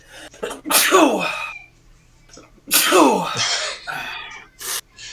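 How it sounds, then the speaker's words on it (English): Two loud sneezes about two seconds apart, each with a sharp in-breath before the burst, close up, followed by a brief voice. "I'm going to sneeze."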